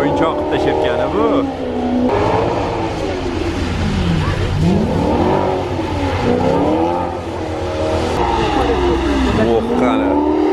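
A Maserati GranTurismo engine revs loudly while drifting, its pitch swooping up and down in repeated waves over a continuous roar, with a person talking over it.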